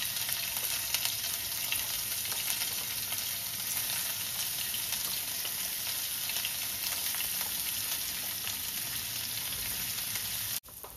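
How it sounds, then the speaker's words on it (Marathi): Paneer pieces fry crisp in a teaspoon of oil in a hot pan, giving a dense, constant close-up sizzle for about ten seconds that cuts off abruptly at the end, with no speech. "आता हे पनीरचे पीसेस आपण ह्याच्यावरती छान मस्त कडक फ्राय करून घेऊया।"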